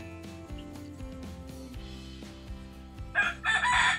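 A rooster crows loudly close by at the end, over a background of plucked string music with a steady rhythmic beat.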